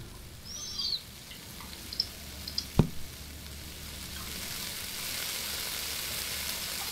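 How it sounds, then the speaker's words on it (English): Soft, steady sizzling of onion and green and yellow bell peppers frying in a pan, with a faint metallic clink partway through and quiet chirps at the start. "Love the sound of sizzling."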